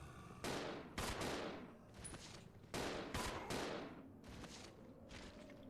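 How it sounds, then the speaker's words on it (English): Several loud gunshots fired in the Resident Evil Zero video game, sharp bursts in uneven pairs and singles with short reverberant tails, no talk. "Alright, let me shoot him."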